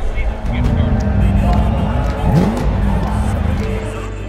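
Race cars rev and pass by at a Miami race event in The Crew 2, with a steady engine roar, pitch sweeps as cars go by, and crowd babble and talk underneath.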